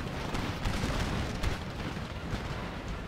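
Cannon and artillery fire rumbles through a Total War battle with Russian Empire forces, a dense, continuous roar of booms and blasts with one sharper burst, loud and steady throughout.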